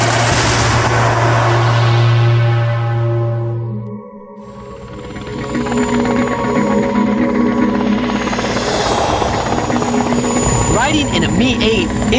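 A Mi-8 military helicopter in flight roars loudly and steadily from inside the cabin, with deep rotor thumping and turbine whine that dips briefly before surging back.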